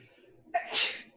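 A single loud sneeze close by, with a quick sharp intake of breath followed by a bright, hissing burst.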